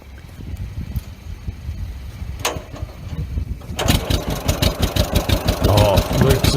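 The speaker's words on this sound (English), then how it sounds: "we're listening to a B John Deere from 1936" A 1936 John Deere Model B tractor engine idles close by with a low, steady chugging pulse that grows louder and busier partway through.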